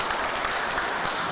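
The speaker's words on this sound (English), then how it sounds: "Y'all can clap." Attendees at a vaccination site announcement in Savannah clap briefly, a short, even wash of applause with a slightly distant, roomy quality.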